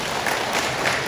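Brief burst of dense, steady hand clapping from a church congregation, loud and even with no voices over it.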